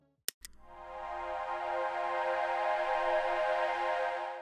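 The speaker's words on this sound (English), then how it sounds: "So it's just basic sleepy time ambient music." Sleepy ambient music in the new isolationism style: a soft sustained synth drone swells in after a couple of brief clicks, holds warm and even, then fades at the end.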